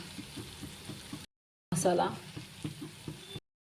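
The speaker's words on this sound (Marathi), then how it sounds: "फ्राय करूया। मग कांदा आपला जो आहे तो छान ब्राऊन कलर होते त्याचा" Onion frying in a pan at home gives a steady close sizzle with stirring scrapes, interrupted by a brief gap. A voice speaks over part of it.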